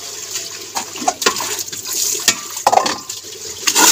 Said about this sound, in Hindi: मैं ना पहले पालक धो लवां